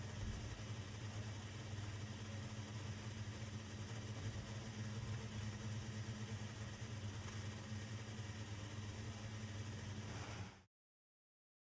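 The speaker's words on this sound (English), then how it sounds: "Okay, engines fired up" F1 car engines running in the video game F1 25 on the grid at the Saudi Arabia GP, a steady low idling hum held for about ten seconds before cutting out abruptly, with no talk.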